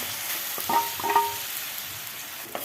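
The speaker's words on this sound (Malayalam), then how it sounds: "1 ടേബിൾ സ്പൂൺ നെയ്യ് ഒഴിച്ച് കൊടുത്ത് നൈസായി അരിഞ്ഞു വെച്ച പഴം ഇട്ട് കൊടുക്കുക" Finely sliced banana hitting a tablespoon of hot ghee in a heavy pan, a soft steady sizzle with a few stirring scrapes and clinks, no talking.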